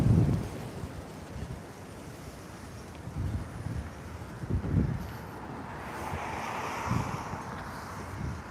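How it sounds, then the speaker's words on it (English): Strong wind gusts buffet the microphone outdoors, a steady roar swelling and easing with several low rumbling bursts and a broader surge toward the end, with no talking. "That wind is pretty gnarly."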